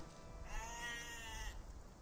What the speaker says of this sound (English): There's a sheep right there.